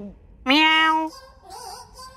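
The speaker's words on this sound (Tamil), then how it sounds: "அழகான பூனை." A single clear, drawn-out cat meow rises and falls close by, followed by quieter bright chirpy sounds in a scene from a Tamil Tenali Raman period drama.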